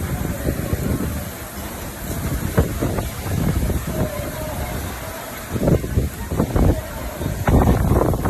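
Typhoon Muifa's wind gusts batter Ishigaki island, a loud, continuous roar with rumbling buffeting bursts, heavy wind noise hitting the microphone throughout.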